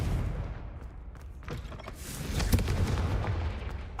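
A Confringo explosive spell goes off in Hogwarts Legacy with a loud, rumbling blast that swells and holds for several seconds, dense and near, with no talk over it.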